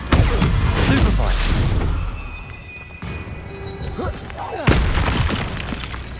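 A Stupefy spell bursts in the Hogwarts Legacy video game amid a dense, loud mix of combat booms and magical whooshes, with a sharp crack near the end.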